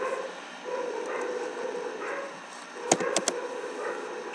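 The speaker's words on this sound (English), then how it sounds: "the dogs are still barking" Dogs barking in the distance, a quick cluster of three or four short yips near the end, faint against steady background noise.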